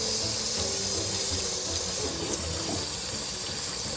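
Irish moss is washed under a running kitchen tap, steady water streaming and splashing continuously at close range.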